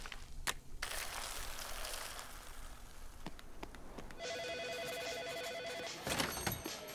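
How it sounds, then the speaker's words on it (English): Cartoon telephone ringing in a pizza restaurant, a bright electronic trill sounding twice in bursts amid background clatter. "The phones have been ringing off the hook."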